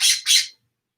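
A loud bird calling just outside a window, two harsh squawking bursts in quick succession that then cut to silence.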